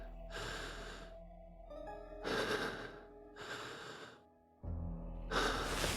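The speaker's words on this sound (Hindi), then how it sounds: "जेम्स बहुत बुरा सपना देख रहा था तो वो जाग गया अचानक से और यहाँ पे हाँफ रहा है।" A horror video game character pants heavily after waking from a nightmare. Four loud, ragged breath bursts come close up, separated by short pauses, over a low ambient hum.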